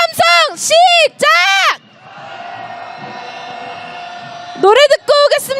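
A candlelight protest crowd demanding Yoon Suk-yeol's impeachment: loud, amplified, chant-like shouts open and close the moment, with a sustained, rolling crowd roar filling the gap between them.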